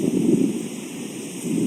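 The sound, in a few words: strong wind at night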